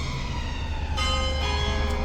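A bell at Horse Guards in London rings with sustained, ringing tones over a dense, steady wash of outdoor traffic and crowd noise, a few fresh strikes layering in toward the end.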